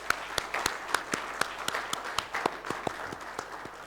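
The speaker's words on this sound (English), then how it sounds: "So I would like you to give all 3 of them a fantastic round of applause." Conference audience giving a round of applause, a moderate burst of scattered, distinct hand claps over a few seconds with no talking.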